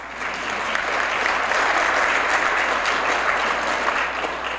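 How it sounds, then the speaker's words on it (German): An audience applauds after a lecture on religious extremism by Prof. Norton Mezvinsky, a steady, even wash of many hands clapping in a hall, sustained without voices over it. "Nach diesem Applaus"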